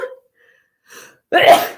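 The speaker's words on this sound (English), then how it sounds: "I'm gonna sneeze." A short breath and faint intake, then one loud, close sneeze bursting out at the end.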